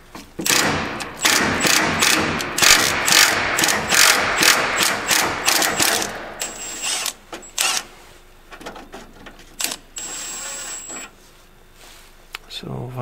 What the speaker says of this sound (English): I'm taking my impact and carefully I'm gonna remove it.